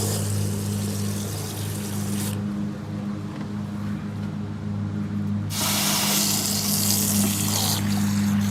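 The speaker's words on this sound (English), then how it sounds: "I'm going to put a little water in here as well as the container and do a" Water running into a container to pre-mix weed herbicide, a steady continuous stream with a broad hiss that drops away briefly in the middle and then resumes, close and fairly loud over a low hum.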